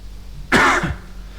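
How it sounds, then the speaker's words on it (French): One sharp, throaty cough bursts out close to the mic, brief and rough, then trails off into quiet room tone. "tu tousses quand même pas mal"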